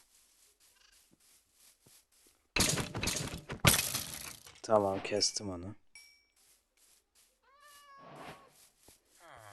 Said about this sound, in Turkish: Burada kediler var miyavlıyor.